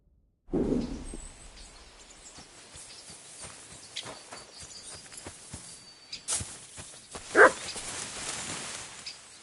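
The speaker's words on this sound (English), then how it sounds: "Barking." Dog barking in the Kingdom Come Deliverance 2 video game, a few sharp barks sounding at a distance amid ambient outdoor game sounds and footsteps, with one louder bark standing out near the end.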